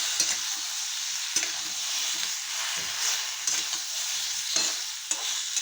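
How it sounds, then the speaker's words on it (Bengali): Potato, eggplant and beans frying with chopped ginger in a pan, a constant sizzle broken by repeated sharp scrapes and clinks of stirring. "আলু বেগুন শিম আমার ভালো করে ভাজা হয়ে গেছে"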